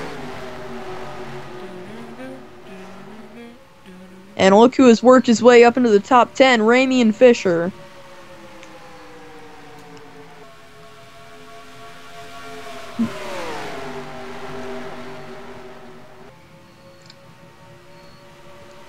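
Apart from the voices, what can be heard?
race cars running on the track at Kansas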